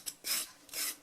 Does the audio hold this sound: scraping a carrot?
yes